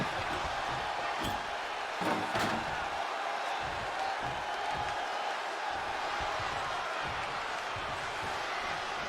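A home crowd roars in a WWE 2K20 wrestling arena, a steady dense wash of cheering and whooping with a few sharp slam-like thumps near the start, loud and continuous throughout.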